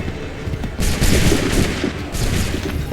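A musket volley rings out on a Revolutionary War battlefield in Assassin's Creed III, a dense crackling burst of many muskets firing together and rolling on in a loud, ragged fusillade with no talking.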